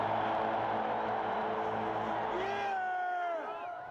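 A loud, roaring crowd at a Seahawks football stadium, a dense wall of cheering that holds steady and then thins as a voice begins talking near the end.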